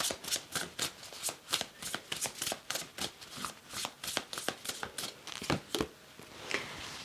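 Tarot cards being shuffled by hand, a steady run of crisp riffling flutters and soft slaps repeating roughly every half second, close and clear with no talking.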